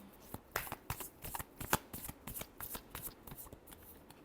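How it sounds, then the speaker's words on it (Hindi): Tarot cards being shuffled by hand: a quick series of crisp riffles and soft flicks in an uneven rhythm, close and fairly quiet, with no talking. "Last shuffle."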